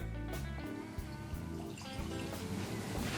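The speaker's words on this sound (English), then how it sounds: "we need a pour." Wheat whiskey, Bernheim Barrel Proof, is poured into a glass, giving a faint liquid trickle and dribble with small drips, heard close and quiet with no talking.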